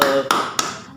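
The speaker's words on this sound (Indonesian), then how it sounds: "Sebelumnya tepuk tangan dulu." Two sharp, close hand claps about a third of a second apart, each a crisp slap that rings briefly, after a short tonal sound at the start.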